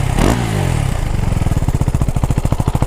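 A Husqvarna Svartpilen 401 motorcycle engine idles close by with a steady, rapid thumping pulse, preceded by a brief clattering burst at the start.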